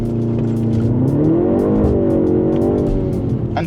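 A 2025 BMW M135 hatchback with a dual clutch transmission accelerates hard, its engine note climbing and dropping through several rapid upshifts, loud and close, with crisp pops between gears.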